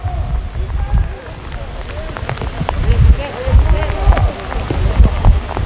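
Heavy rain pours across an outdoor football field during a Titans versus Boars game, a constant broadband hiss and patter beneath continuous commentator talk and crowd noise.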